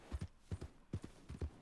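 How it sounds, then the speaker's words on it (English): Horse hooves clip-clop on the road in a video game, a quick double-beat pattern of soft thuds repeating four times, close and fairly quiet with no talk over it. "We have like a really good horse."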